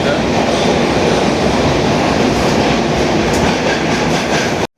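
A Konkan Railway train roars loudly and continuously, its rumble filling the enclosed space as it runs through a tunnel, then cuts off abruptly at the end.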